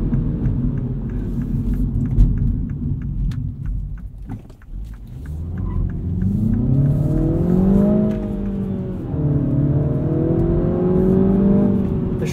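A 2022 Mini Cooper S manual hatchback engine revs up, drops briefly as the gear changes, then climbs again in a rising whine, loud and close.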